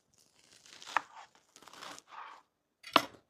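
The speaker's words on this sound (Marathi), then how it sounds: "आपण आता पालकाची कटिंग करून घेऊ" Several sharp knife chops through spinach on a board, widely spaced, with soft crinkly rustling of the leaves between the cuts.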